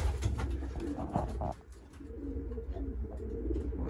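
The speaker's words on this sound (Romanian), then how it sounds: "Aici am și câțiva porumbei de maraton." Marathon racing pigeons coo in a loft, a steady low rolling cooing from several birds close by, continuous across the clip with a brief dip in the middle.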